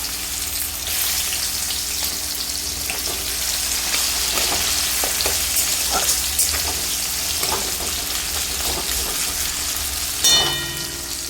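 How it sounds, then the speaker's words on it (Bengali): Chopped onions frying in oil left from frying rohu fish, a steady loud sizzle with scattered crackles throughout, ending in a brief clatter. "পেঁয়াজটা হালকা একটু লাল করে ভেজে নেব"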